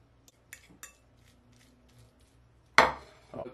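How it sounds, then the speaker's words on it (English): A utensil scrapes and clinks in a bowl as crappie is folded into a cream cheese and sriracha mix, a few faint light taps followed by a louder, close scraping stir. "Folding it all in."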